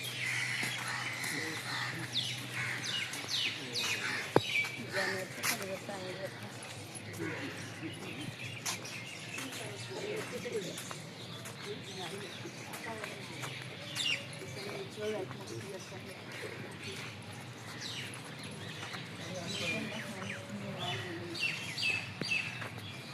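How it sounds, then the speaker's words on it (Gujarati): Birds chirp and tweet in a steady chorus at a temple, moderately faint, with background noise and some distant voices mixed in. "તમે પક્ષીઓનો સુંદર મજાનો અવાજ સાંભળી શકો છો"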